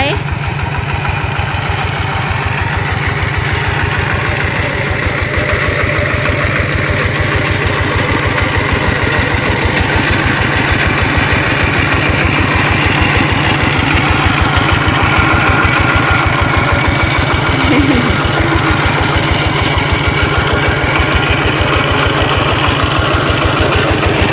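A walking tractor's small single-cylinder engine chugs steadily and loudly throughout, a continuous idling rumble with a rapid knocking pulse.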